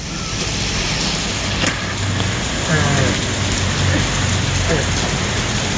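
Water splashes in a constant dense rush at a small waterfall, heard during rain, loud and unbroken throughout.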